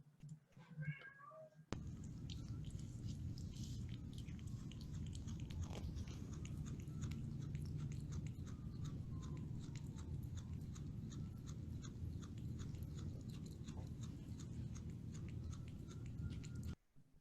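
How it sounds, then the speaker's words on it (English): A young kitten chews roughly, grinding its teeth, in a soft continuous crunching at close range, faint and without speech. "chewing sound that he made?"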